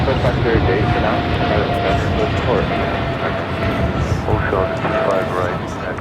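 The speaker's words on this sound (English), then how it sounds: "That was DHL operated by Coletta Air, a flight 230 taking off to Seoul on the 777 freighter." A DHL Boeing 777 freighter takes off at Los Angeles airport, its steady broadband jet roar filling the whole stretch at close range while a voice talks over it.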